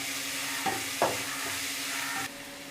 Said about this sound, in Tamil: வெங்காயம் நல்லா கோல்டன் ப்ரௌன் ஆகிற வரைக்கும் நல்லா வதக்கிக்கோங்க.